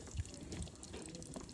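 Air leaking from an inflatable raft held under bathtub water, a faint continuous bubbling and gurgling close to the surface with no voices.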